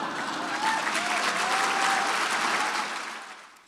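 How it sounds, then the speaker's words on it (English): An audience at a luncheon breaks into sustained applause, a dense, close wash of clapping that holds steady for a few seconds and then fades away at the end. "Let's give them a round of applause"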